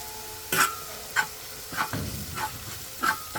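Ginger garlic paste and spice powders sautéing in a pan for a Kerala-style kappa biryani, with a soft sizzle under a series of about six spoon scrapes and stirs at an uneven pace.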